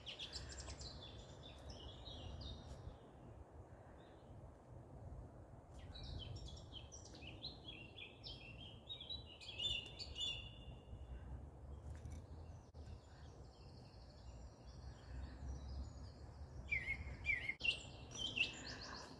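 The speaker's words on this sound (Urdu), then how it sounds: "پرندوں کی آواز کو." Birds chirp and tweet outdoors in scattered high calls, fairly faint over a steady low background hum, growing a bit busier toward the end.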